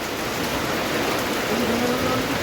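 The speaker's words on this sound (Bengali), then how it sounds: "এ বন্যার মতো বৃষ্টি হয়েছে" Heavy rain during a storm pours down as a dense, steady roar of close, loud noise with no break, while a voice talks faintly beneath it.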